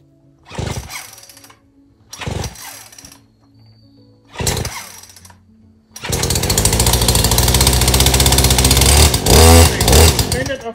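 A Husqvarna 120 Mark II chainsaw takes three short pull-start bursts, then fires and runs loudly and continuously up close, rising and falling with throttle blips.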